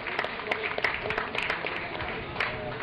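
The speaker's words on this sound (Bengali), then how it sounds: "এটার জন্য একটা জোরে হাততালি পাওয়া উচিত" A seated audience at a local results gathering in Hooghly applauds with continuous, dense clapping that carries a faint murmur of crowd voices throughout.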